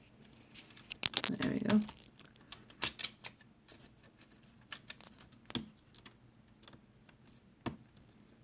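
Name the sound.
reattaching a laptop keyboard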